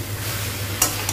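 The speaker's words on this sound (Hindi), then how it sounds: "उसको भी अच्छा से भून लो" Potato and cauliflower frying in a pan for an Odia curry, a close continuous sizzle over a low hum, broken by two sharp scrapes of a spoon stirring.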